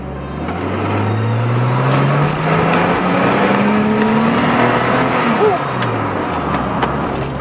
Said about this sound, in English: let's try a small pull and see how the car goes on D.